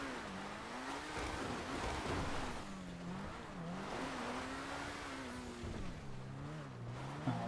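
Sports car engine in a video game revving hard as it climbs Mt Chiliad, exhaust flames popping, a steady wavering drone rising and falling in pitch throughout, loud and continuous with no talk.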